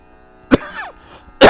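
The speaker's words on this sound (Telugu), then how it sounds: "కురువు అంటూ ఉండగానే చూసారా దగ్గు వచ్చేసింది" Two close, loud coughs about a second apart, the first short and sharp, the second a heavier burst, with quiet in between.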